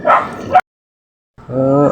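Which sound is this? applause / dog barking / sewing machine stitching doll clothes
dog barking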